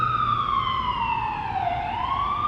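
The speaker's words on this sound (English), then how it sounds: "I'm gonna let this siren pass" An emergency vehicle siren wails steadily in the street, its pitch sliding down then rising again as it passes nearby, loud and continuous over low traffic rumble.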